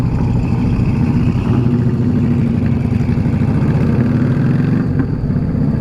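A Pontiac GTO Judge muscle car rumbles loudly nearby at a car show, its engine holding a steady throbbing idle with slight revs throughout.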